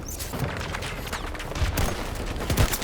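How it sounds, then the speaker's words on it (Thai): Gunfire exchange in the video game Battlefield 2042, with dense overlapping shots and bursts crackling loudly and continuously, some closer thumps standing out near the end. "ต่างฝ่ายต่างยิงไม่โดน"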